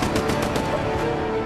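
Gunfire in a TV drama scene set in a favela, a dense run of rapid loud shots that blur into a continuous burst, with no talk.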